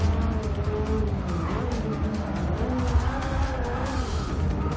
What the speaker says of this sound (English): just a little bit of tire squeal we want around that corner